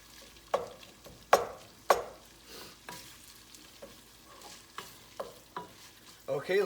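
Meat sizzles quietly in a pan on a stovetop while being turned, with soft frying crackle under a series of sharp scrapes and clanks from stirring and rotating the pieces.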